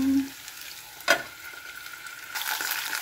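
Hotdogs fry in a pan, a soft steady sizzle with a brief clatter partway through and a brighter hiss rising near the end, no speech.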